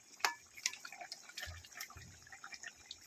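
Bottle gourd with ginger boils in a cooking pot, a faint, steady patter of bubbling and dripping with a few sharper pops and no voices.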